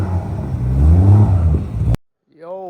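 A Toyota MK3 Supra engine revs up loudly nearby in a rising, rumbling sweep that cuts off abruptly, followed by a brief engine rev after a gap, with someone talking.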